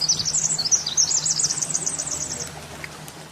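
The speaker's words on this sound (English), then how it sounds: "When we hear the sound of the earth, we can see it sounds deeply similar to the sounds of birds singing." Recorded sound of the earth that resembles birds singing: rapid, high repeated chirps in a steady chorus over a low hum, fading toward the end.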